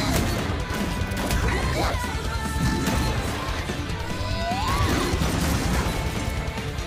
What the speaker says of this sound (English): You're just hitting the plating, Yang!